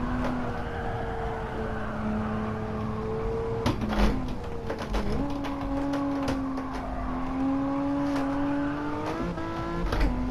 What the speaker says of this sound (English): I'm trying to slide the car to see how it performs over the limit